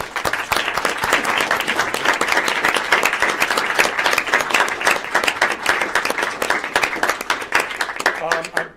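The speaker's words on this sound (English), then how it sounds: "they really do deserve a round of applause" Audience at an Oxford student symposium applauding the organisers: a sustained, dense round of clapping lasting several seconds, with some voices mixed in before it thins toward the end.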